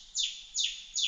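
Rufous Scrub-bird (Atrichornis rufescens) calling in Oakes State Forest, Australia, about 20 metres away: three loud, clear descending whistled notes at a steady rhythm, with no voices and nothing else sounding.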